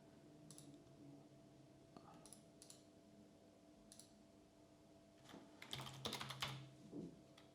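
Quiet, scattered keystrokes on a computer keyboard come in short bursts while someone types a string of ABAP code, then build into a denser flurry of clicks near the end.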